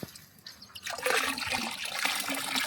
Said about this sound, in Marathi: असं ढवळून पाण्यामध्ये मिक्स करून टाकायचं